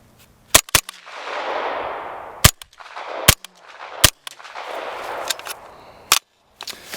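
Suppressed AR5-SD rifle firing supersonic ammunition outdoors, several sharp, loud cracking shots at irregular intervals, some in quick pairs, each followed by a rolling echo decay.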